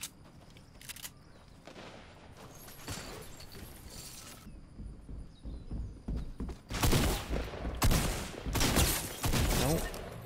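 Bursts of automatic gunfire and weapon shots ring out in a first-person shooter game, rising to loud rapid volleys in the second half, with scattered thuds, footsteps and occasional speech underneath.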